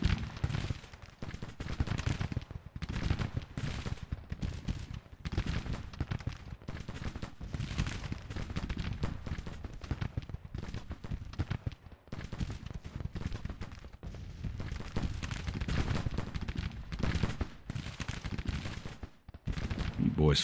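Civil War soldiers in the Grand Tactician strategy game keep up steady massed rifle fire, a dense continuous crackle of distant shots rolling on without pause, with occasional talk over it.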